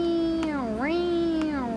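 A cat meows in two long, drawn-out, pitch-bending calls, close and clear with no talking over them.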